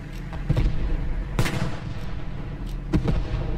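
A tank cannon in a video game fires an APHE round, one heavy booming shot standing out over a continuous low rumble of engine and battle noise, followed by a smaller burst a moment later.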